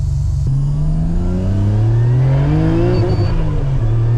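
A Nissan R32 GT-R with a twin-turbo RB26 engine, running on a dyno with a misfire, revs hard and loud, its pitch climbing steadily before bouncing against the rev limiter.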